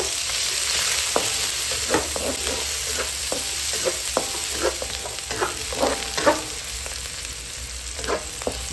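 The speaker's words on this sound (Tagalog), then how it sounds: "Maggisa na tayo ng ating bawang at sibuyas" Garlic and onion sauté in a small amount of oil, crackling steadily while a spatula scrapes and stirs the pan in repeated strokes. Close and continuous, with no talking.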